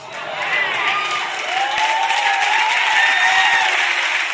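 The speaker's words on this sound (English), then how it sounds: "Kind of sketchy how much y'all clapped about that." A church congregation claps and cheers loudly, a dense, sustained roar of applause with whoops and shouts filling the whole moment.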